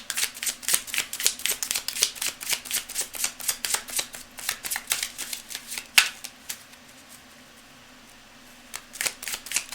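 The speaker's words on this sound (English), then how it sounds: "Cards are already very well shuffled." A deck of reading cards is shuffled in a fast run of crisp riffling snaps, and the shuffling pauses near the end.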